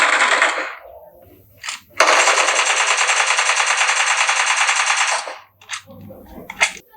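Gunfire in PUBG played on a Xiaomi 12T Pro: a loud, sustained automatic burst of about three seconds, with shorter single shots and clicks before and after.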